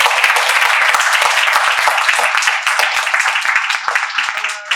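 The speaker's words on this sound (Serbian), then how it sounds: "molim vas pozdravite aplauzom prijatelje Ružica Udirović" Close, loud audience clapping welcoming a speaker onto the stage at an arts business forum, a crisp dense patter of many hands that stays strong and thins slightly toward the end.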